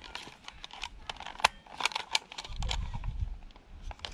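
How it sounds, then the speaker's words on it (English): A cassette tape pushed into an old Audio Sonic Walkman, a run of small plastic clicks and rattles close up, followed by a soft fumbling thud. "So you just pop the tape in there."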